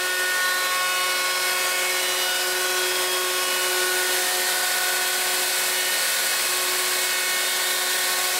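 A router with a 1/4 inch round-over bit cuts a wooden test piece for a dining room table edge, a loud, steady high-pitched whine with no pauses.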